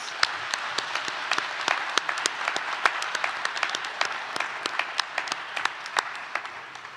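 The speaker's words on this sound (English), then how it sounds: "So let's give those friends and family a big round of applause." A large audience at a pharmacy white coat ceremony applauds friends and family, steady dense clapping with sharp individual claps standing out throughout, fairly close and sustained.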